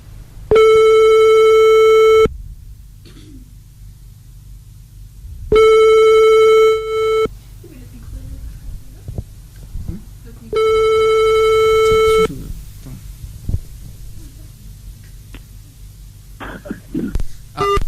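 A telephone rings in three long electronic bursts at steady intervals during a radio show call, loud and close, with quiet murmurs and small sounds between the rings.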